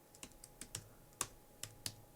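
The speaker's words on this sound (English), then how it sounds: "So I'm just gonna type it all in." Sharp, uneven keystrokes on a computer keyboard as a magazine program listing is typed in, about eight distinct clicks at a halting pace, close and clear with no talking.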